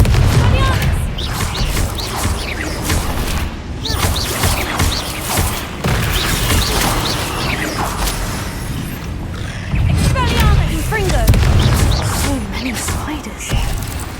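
Spell effects from Confringo and Expelliarmus cast in the video game Hogwarts Legacy, heard as dense, continuous combat noise with repeated booms, crashes and mechanical clatter, loud and busy throughout the stretch.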